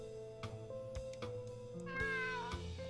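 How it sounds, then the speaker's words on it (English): A cat meows in the video game Fatal Twelve, a few clear mewing calls over soft game music, with no talking. "It's a kitty cat!"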